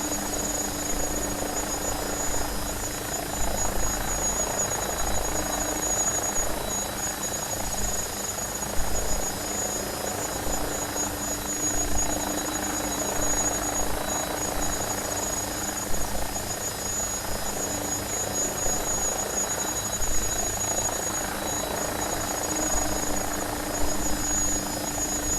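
An AgustaWestland AW109SP helicopter takes off automatically, its turbine whine and rotor roar steady and loud throughout with no voices.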